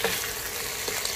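Vegetarian red curry paste with bamboo shoots stir-fried in a pan, giving a steady, dense sizzle at close range with faint stirring scrapes and no voices.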